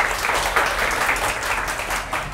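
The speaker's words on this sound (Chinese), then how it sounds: "掌声鼓励" Audience applauding at a television talk show, a dense, steady wash of clapping that holds at an even level throughout.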